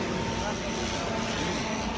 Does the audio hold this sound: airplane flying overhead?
yes